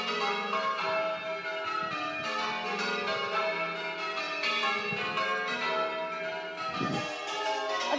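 A peal of church bells in Cookham rings on steadily outdoors, many tones tumbling over one another, resonant and unbroken, with no voices.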